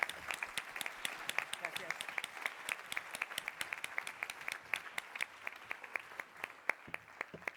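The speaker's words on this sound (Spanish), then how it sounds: "Isabel Cuixet, un aplaudiment per ella." An audience at a creativity forum conference gives sparse, distinct claps, with individual sharp hand claps rather than a dense roar and a light room hush between them.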